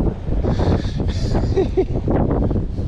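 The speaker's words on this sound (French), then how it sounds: "Ici il y a du vent, hein." Wind buffets the microphone at a seaside fishing spot, low rumbling gusts that rise and fall while a voice speaks faintly underneath.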